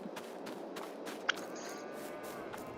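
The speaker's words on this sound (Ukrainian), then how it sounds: "До речі, чути звуки коров." Cows in the Farming Simulator 22 video game, a single low moo in the middle over a steady farm background with soft footsteps and faint clicks.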